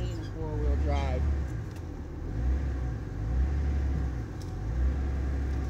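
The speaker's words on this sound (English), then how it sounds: "I'm hanging outside of my car driving because I want to make sure I clear these huge stumps and bumps." A regular two-wheel-drive car rolls slowly over stumps and bumps on a rough dirt road hand-built with an axe, hatchet and shovel, giving a low, surging engine rumble that swells and eases in uneven waves as the car lurches along.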